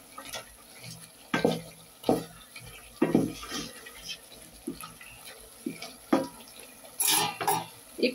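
Dried fish (shutki) stirred in a cooking pot with a spoon, giving irregular scraping and clattering strokes over a low background, some louder and close, others softer, with no talk.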